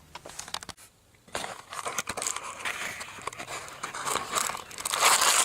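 A plastic bag crinkles and rustles around a boxed Honda Civic toy car, with a brief pause before louder, continuous close handling noise.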